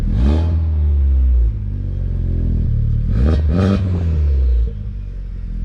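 A stock Honda Civic Type R FK8 with a damaged downpipe and a blown-out catalytic converter, running loud and close, its engine note rising and falling in two surges with a turbo whoosh building through the revs.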